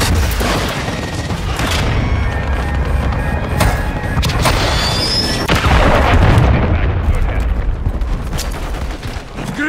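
An artillery fire mission strike in Call of Duty: Modern Warfare III, with heavy booming explosions and bursts of gunfire rolling loudly and continuously close by, the blasts overlapping in a dense barrage.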